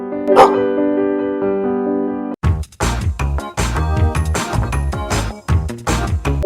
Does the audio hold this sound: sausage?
no